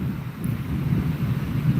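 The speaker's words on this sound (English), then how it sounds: "it's very windy over here" Strong Kona winds buffet a rocky campsite, a constant low roaring rumble of gusts battering close to the microphone without pause.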